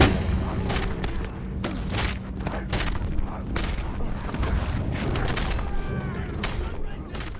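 Explosions and gunfire in a post-apocalyptic wasteland video game, a rapid series of loud booms and blasts packed close together over several seconds, with scattered debris and rumbling between hits.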